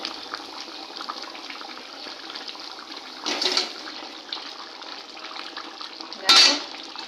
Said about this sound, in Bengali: বেগুন টমেটো দেখো আমি প্লেটে তুলে দিচ্ছি